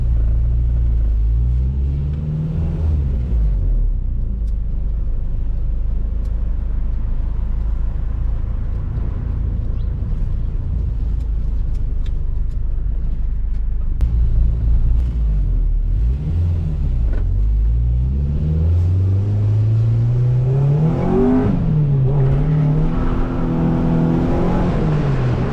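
A car doing a burnout, tires spinning with no grip as the engine revs hard through first and second gear, a loud close roar rising and falling with each shift and climbing in pitch toward the end.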